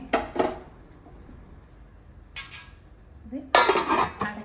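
A metal lid clinks onto a pot of simmering okra curry, with a couple of sharp clattering knocks and a louder rattling clank near the end, heard close against a quiet kitchen background.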